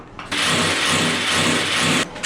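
A Bossan power drill whirs loudly at a steady pitch for about two seconds, then spins down and stops.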